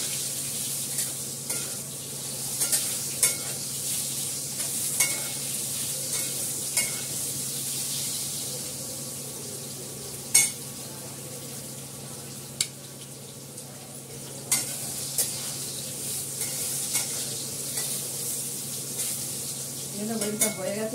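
Fish frying in hot oil in a home kitchen pan, with salt and broken green chillies added, gives a steady close sizzle while a utensil stirs and scrapes in scattered knocks and clinks.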